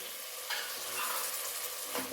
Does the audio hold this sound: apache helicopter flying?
no